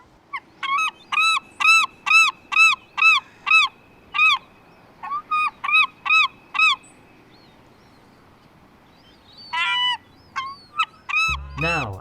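A glaucous-winged gull, a large pale gull, calls in a rapid series of loud, close, honking yelps that come in regular bursts, pause, then return in a few shorter calls before a rough thump at the end.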